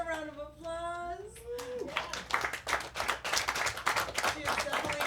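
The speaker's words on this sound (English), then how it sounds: "Give her a round of applause." Audience applause for a comedian at a live comedy club, a burst of close, dense hand clapping that follows a voice and then carries on steadily to the end.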